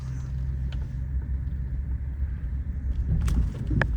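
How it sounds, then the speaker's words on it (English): A 2019 Ram 1500 pickup idles with a steady low engine rumble up close, then a brief clunk and a slight rise as it is shifted into gear. "I'm definitely not shutting the truck off, so we're just gonna put it in gear"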